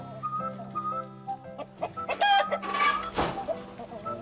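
Chickens in a coop cluck steadily in short repeated bursts at close range, joined by louder squawks and a rooster-like call midway, with rustling movement among the birds.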